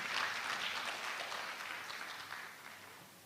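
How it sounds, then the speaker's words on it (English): Audience applause at a physicians' college induction ceremony, a dense crowd clapping steadily throughout and slowly fading toward the end, with no voices over it. "Shall we welcome him with a clap to take his address?"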